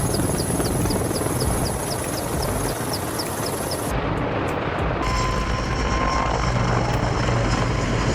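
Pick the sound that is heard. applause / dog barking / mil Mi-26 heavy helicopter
mil Mi-26 heavy helicopter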